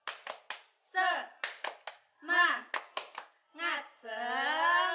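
Two teachers lead a rhythmic 'tepuk semangat 5' chant in a primary-school lesson, with sharp hand claps in patterned groups alternating with chanted voices, close and clear against silence.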